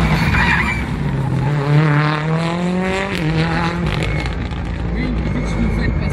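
The blue number 12 Ford Fiesta rally car speeds along a rally stage, its engine revving and shifting through gears with tyre noise, loud and close, while a commentator talks over it.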